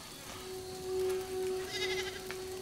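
Goats bleat in a couple of wavering, nasal calls mid-clip, fairly close against a quiet background hum, with no talking heard.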